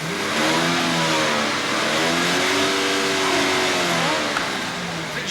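A car engine cranks and runs roughly, misfiring on one cylinder, its uneven revving rising and falling across several seconds as a loud, close, sputtering drone.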